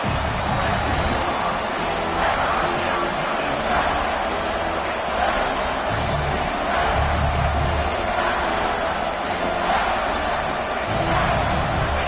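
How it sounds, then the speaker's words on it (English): A large football stadium crowd roars during a big third-down defensive stand, a dense, loud, sustained wall of cheering and shouting that swells without a break. "The crowd elevating its energy, willing this defense to get a stop on this big 3rd down."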